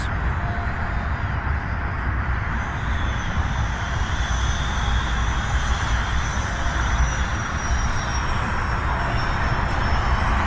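A Flyzone micro Nieuport 17, a small World War I-style radio-controlled model plane, buzzes steadily as it flies in to land, its electric motor whine constant and fairly close over broadband wind noise.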